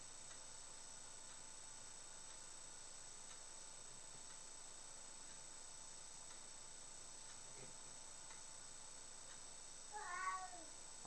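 A pet cat gives a single short meow near the end, faint against a quiet room with a steady electronic hum and occasional soft ticks.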